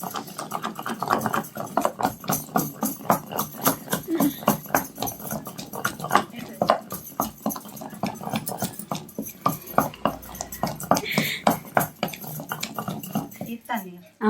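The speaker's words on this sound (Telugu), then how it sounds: "ఇప్పుడు వేసి దంచుతాను" Rhythmic pounding of village-style chutney in a stone mortar, steady repeated thuds at close range with a light clatter, continuing for the whole stretch without talk.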